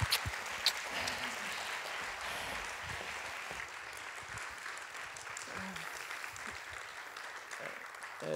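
Audience applause at a Polish lecture and debate event, steady and moderately quiet, slowly thinning out with a few murmurs and small knocks beneath it.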